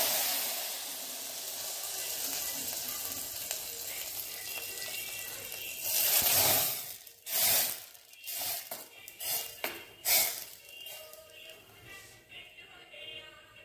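Hot ghee tempering hits a simmering pot of Gujarati kadhi curry, sending up a loud burst of sizzle and hiss, followed by several sharp spitting surges and clinks as it settles.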